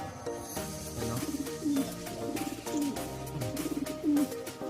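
Homing pigeons coo in a loft where a bird has returned after two years, several soft rolling coos close by amid scattered fluttering and background chatter of other birds.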